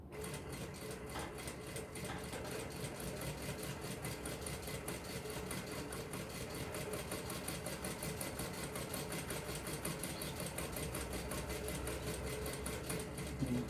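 A sewing machine runs steadily, stitching a wristlet strap with fast, even needle strokes that carry on close and loud with no pauses.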